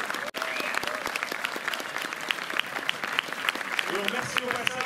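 An audience at a student and public prize ceremony at the Galerie de Montreuil applauds, a steady patter of many hands with scattered sharper claps, voices mixed in underneath.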